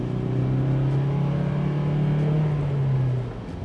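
A Tata Hexa SUV accelerates hard, its engine holding a steady, loud drone that climbs gently in pitch toward about 4,500 RPM before easing off near the end, with no talking over it.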